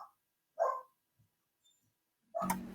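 Small dogs bark in a few short, sharp bursts with quiet gaps between, the last bark louder and longer, heard indoors without talk.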